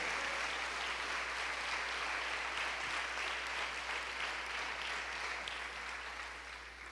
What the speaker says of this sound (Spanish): Dele ofrenda de palmas fuerte al Señor.